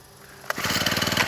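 A used Honda four-stroke grass cutter engine catches after a short quiet moment and settles into a steady, close, even putter that runs to the end.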